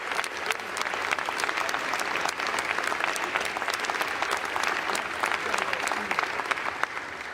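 Steady, dense applause from an audience in the chamber of Congress fills the whole stretch at moderate loudness, with sharp claps scattered through it and a faint murmur of voices underneath.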